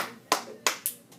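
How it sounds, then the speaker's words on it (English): Students give a quiet golfer's clap in a classroom: a few soft, sparse hand claps spaced irregularly, close and gentle, with no talking over them. "Just a little clap like that."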